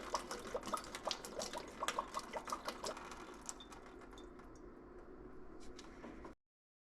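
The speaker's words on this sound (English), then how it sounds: "I rinsed out the barrel." Water sloshes and drips while a wooden barrel is rinsed out, with a run of rapid splashy knocks at first that thin into softer trickling; close, fairly quiet, no talking.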